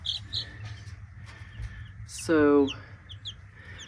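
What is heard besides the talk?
newly hatched chicks chirping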